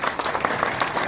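Crowd applause welcoming a speaker onto a stage at a training event in Malaysia, brief, steady and fairly close, with no voices over it.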